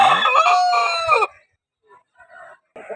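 A rooster lets out one loud, close crow that cuts off abruptly, followed by a few soft clucks and quiet pauses.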